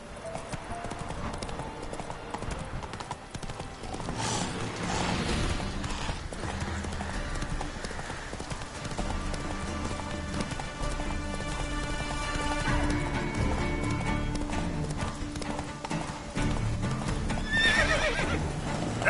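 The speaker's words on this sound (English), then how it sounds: "That's it, Roach." Roach, a horse in The Witcher 3 video game, gallops with clip-clop hooves and neighs, accompanied by crashes and game sounds and a voice urging it on.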